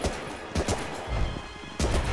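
Gunfire in the World War II shooter Medal of Honor: Rising Sun, during the Fall of the Philippines campaign: three loud sharp shots spaced apart, each with a booming tail.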